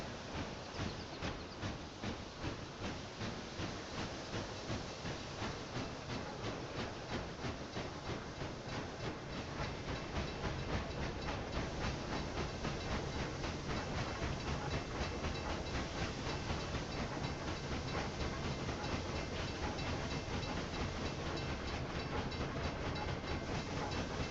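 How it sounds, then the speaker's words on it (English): A train in the video game Railway Empire 2 rolls along with a steady rhythmic clatter of wheels on track, a continuous rumble that grows slightly louder as it approaches, with no talking. "We will see the other train coming towards us."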